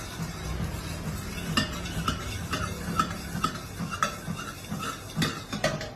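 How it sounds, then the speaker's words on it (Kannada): Curd being beaten with powdered sugar in a bowl, with a steady run of quick clinks and scrapes from the utensil against the dish, close and fairly even in rhythm. "ಸಕ್ಕರೆ ಪೌಡರ್ ಹಾಕಿದೀನಿ ನಾನು, ಹಾಕಿ ಚೆನ್ನಾಗಿ ಬೀಟ್ ಮಾಡ್ಕೊತಾ ಇದ್ದೀನಿ."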